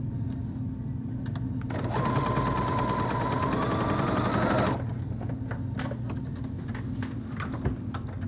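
Sewing machine stitching a quarter-inch seam around a small quilted fabric piece, a fast rattling hum running for about three seconds at close range, with quieter handling clicks before and after.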